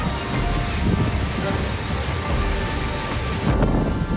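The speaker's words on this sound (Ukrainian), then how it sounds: "це дощ. Дощ капає." Heavy rain pours down steadily with a deep rumble of thunder underneath during a desert storm in Mauritania, loud and continuous, and a faint voice may be present.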